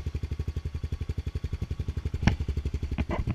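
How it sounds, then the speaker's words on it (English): A Honda Foreman 500 ATV fitted with an HMF exhaust, optimizer and UMI air filter idles nearby with a steady, even low thump-thump pulse, a couple of brief clicks rising near the end. "A nice little thump you're hearing is from the HMF exhaust."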